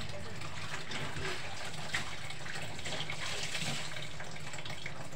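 Water running from a tap during laundry, a steady splashing flow heard under a person talking.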